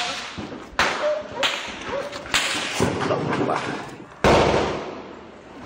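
Gunshots crack and echo across Tipo-Tipo, Basilan, during a clan gunfight in the morning, several loud sharp reports at irregular intervals, each followed by a ringing tail, with a voice talking underneath.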